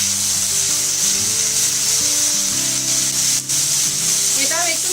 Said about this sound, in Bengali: এটাও একটু 30 সেকেন্ড মতো ভাজতে হবে।